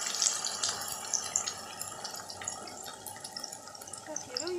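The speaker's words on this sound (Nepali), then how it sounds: "यो अघिको मसालालाई चाहिँ म पानी हालेर अलिक गिलो बनाइदिन्छु" Water is poured into cooking masala for a jackfruit curry to thin it, a faint trickle and splashing with small drips. The sound is soft and close against low background noise.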